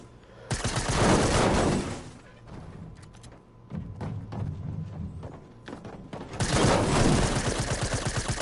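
Gunshots in the video game Fortnite come in two dense bursts of rapid fire, one near the start and one near the end, with sparse thumping shots and quieter movement between them.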